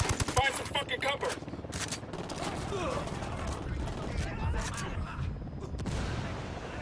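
Rapid gunfire bursts in Ghost Recon Wildlands, fired from a parking area, loud and dense at first, then settling into a continuous rattle of overlapping shots with clatter.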